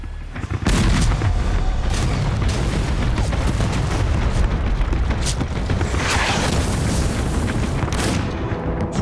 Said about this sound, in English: General Pickett leads his troops to face an onslaught of cannon fire.